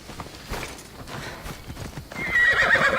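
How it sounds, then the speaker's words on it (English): Game horse from Assassin's Creed Odyssey, clopping hooves at a gallop with a loud whinny near the end, close and clear with no talk over it. "So let me just call our horse and check it out."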